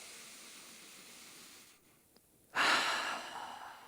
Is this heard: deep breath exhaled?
yes